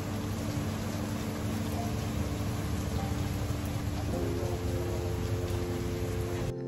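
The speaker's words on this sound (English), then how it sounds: "So the rain kept pouring in there" Heavy rain pours steadily during a wet day out at Hartebeespoort, a dense, unbroken hiss of close downpour lasting throughout with no pauses and no voices.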